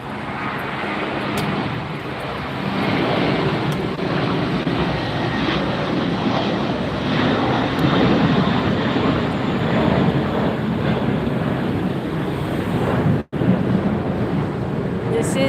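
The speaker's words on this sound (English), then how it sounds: "the Asiana Airlines A380 800 series. Asiana coming in." An Asiana Airlines Airbus A380-800 comes in to land, its broad roaring rumble swelling and holding loud across the stretch, mixed with wind buffeting on the microphone and a brief dropout near the end.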